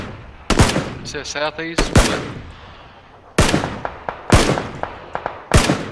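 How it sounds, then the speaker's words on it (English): Video game gunfire: loud, sharp single shots ring out at irregular intervals, with a burst of rapid electronic beeping early on and a short spoken line over the sounds. "Where are the other shots coming from?"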